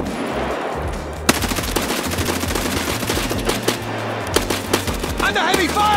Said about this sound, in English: Under heavy fire, changing mag.